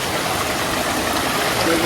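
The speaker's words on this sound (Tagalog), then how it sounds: "nandito kami ngayon sa ilog" A river rushes over large rocks in a steady, dense, close wash of flowing water with no pauses.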